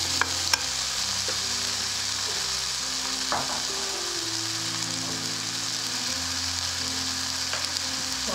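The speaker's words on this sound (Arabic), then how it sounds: "دابا غادي نزيد هاد المقارونيه اللي ديجا سلقتها بالملح" Salted boiled macaroni is stirred into a pan of sautéed vegetables for a vegan dinner, giving a steady close sizzle with soft scraping and stirring throughout and no talk.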